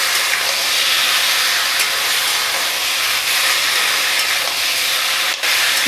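Marinated local chicken frying on a high gas flame while being stirred in a pan, a loud, continuous hiss and sizzle holding steady throughout, with a brief dip near the end.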